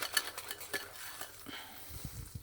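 Spoon stirring cream of rice porridge in a bowl, a few soft scraping and clinking strokes with quiet wet mixing, close and fairly faint, with no speech.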